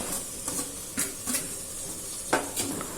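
Cut tomatoes tumble into a pan of mutton biryani base over medium heat, giving a steady sizzle with several sharp clatters and scrapes of a spoon against the metal pan, close and fairly loud.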